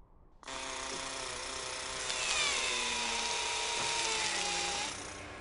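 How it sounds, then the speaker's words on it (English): The arm drill of the Curiosity Mars rover runs with a steady mechanical whine for several seconds, with shifting high-pitched tones and a motorized hum before it winds down. "The drill on the arm allows us to grab some of that rock"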